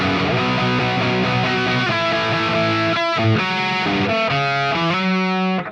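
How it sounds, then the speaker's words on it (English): Heavily distorted electric guitar strumming sustained rhythm chords on a high-gain amp patch set up for a particular band's tone, loud and dense, with several chord changes and brief muted gaps, no voices. "it's gained enough that it kind of gets you that nice distortion in the rhythm"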